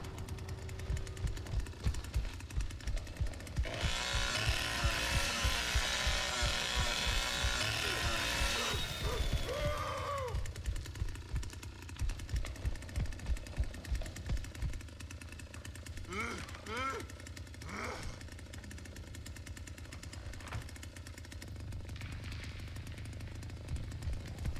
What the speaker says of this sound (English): Come over here, play with my chainsaw.